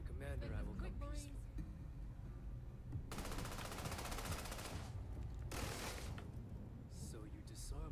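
Automatic gunfire bursts in the video game Starfield, loud dense crackling volleys in two long stretches, with people talking over the shooting.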